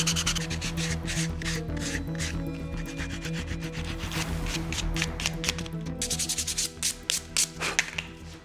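Edges of a homemade wooden boomerang being sanded smooth, rapid repeated rubbing strokes, close and continuous, growing choppier with short separate scrapes toward the end.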